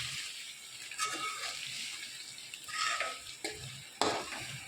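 Chicken coated in chili powder is stirred in a pan, with a few scraping strokes over a soft, steady sizzle and no talking.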